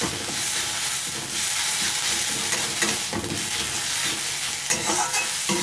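Ginger-garlic paste sizzling in hot oil as it is stirred while cooking a masala dal, a loud, steady frying hiss with scraping surges from the stirring, close up and with no voices.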